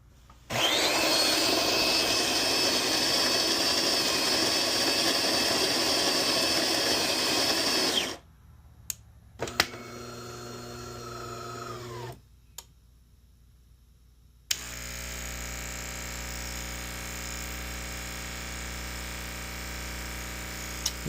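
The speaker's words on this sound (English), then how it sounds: "you see it doesn't want to go, so the pump is not strong enough" A DeLonghi espresso machine's water pump straining with grounds packed too fine, a loud buzzing drone that cuts out, then weaker humming bursts with short gaps before a lower steady hum resumes.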